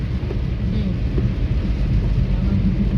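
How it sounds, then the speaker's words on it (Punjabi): Heavy rain pours in sunshine onto a moving car, a dense, steady roar with no pause and no voices. "ਧੁੱਪ ਨਿਕਲੀ ਹੋਈ ਆ ਤੇ ਮੀਂਹ ਪੂਰਾ ਤੇਜ਼ ਪੈ ਰਿਹਾ"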